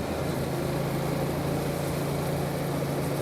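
Yamaha MT-07 twin-cylinder motorcycle engine pulling steadily in fourth gear on a mountain road, a continuous loud low drone with a strong steady hum and broadband wind rush, no voices.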